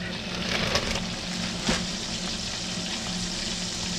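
Southern fried chicken breast strips frying in a cast iron pot give a steady, moderate hiss and crackle, with a couple of brief louder pops.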